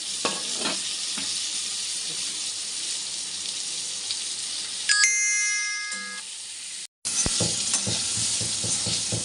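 Eggplant frying in a pan, a steady close sizzle with stirring scrapes, interrupted midway by a ringing chime-like tone and a moment of silence before the sizzling resumes.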